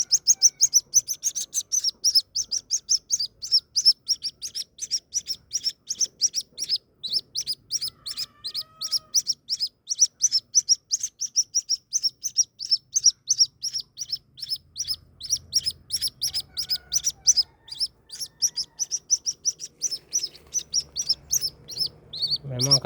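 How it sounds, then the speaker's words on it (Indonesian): White-breasted waterhen chicks chirp in a steady stream of high, sharp peeps for over twenty seconds. The chicks are close and clear, with faint handling noise near the end. "Ini kawan-kawan anak burung ruak-ruak."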